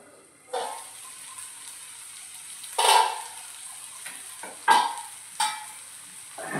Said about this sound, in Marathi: झाकण काढून घ्यायचं